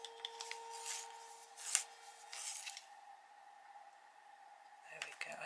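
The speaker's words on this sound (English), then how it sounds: "I'll go for a walnut brown, which I'm just going to sharpen." A walnut brown colored pencil is sharpened up close in a quiet room, giving soft repeated rasping grinds over a faint background hum, ending in a few small clicks.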